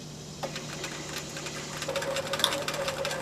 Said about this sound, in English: then you're ready to sew again